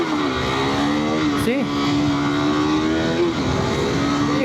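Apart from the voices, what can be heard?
motorcycle engine revving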